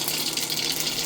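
Mustard seeds hit hot oil for a Gujarati vaghar tempering while making muthiya dhokla, giving a steady, close, bright spluttering hiss that fills the whole brief moment without pause.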